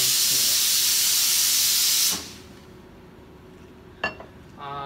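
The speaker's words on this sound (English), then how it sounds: "you're just gonna put the full pressure and then steam" An espresso machine steam wand runs at full pressure in a larger pitcher of milk, a loud, steady close hiss for about two seconds that cuts off abruptly, followed by a quiet room and a couple of light metallic clinks.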